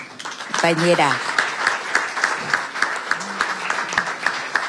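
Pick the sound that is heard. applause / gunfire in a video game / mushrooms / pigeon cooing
applause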